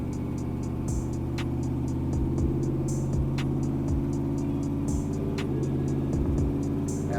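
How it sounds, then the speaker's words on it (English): Cammed 6.0L V8 swapped into an OBS truck runs steadily on a dyno in second gear, a loud, even engine drone with a faint rhythmic ticking on top and no voices. "make sure the shifter is for sure in the second gear"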